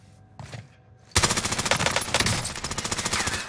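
In Call of Duty Warzone, a machine gun opens up in a sudden, loud, sustained burst of rapid shots with a steady rhythm, preceded by a brief quieter moment.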